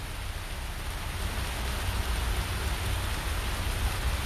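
Steady rain falls outdoors along the bank of the Marne river, a dense, even hiss of drops hitting surfaces all around, continuous and fairly close with no voices.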